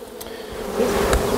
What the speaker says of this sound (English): And we'll dump those bees right onto there in just a few minutes.